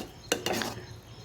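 A ladle stirs and mashes cooked lentils for tamarind-leaf dal in a pot, giving two or three brief, soft clinks and scrapes close by.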